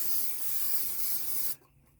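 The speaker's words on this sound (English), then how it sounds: "So first I'm gonna spray the pan." Coconut oil cooking spray hisses onto a pan in one steady burst of about a second and a half, close and fairly loud, then cuts off abruptly into quiet.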